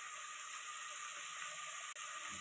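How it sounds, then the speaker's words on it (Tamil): Onions and lentils saute in a pan for a banana-flower kootu with a faint, steady sizzling hiss that runs on evenly, broken once by a brief dip. "மூணு நிமிஷம் வதக்கட்டும்."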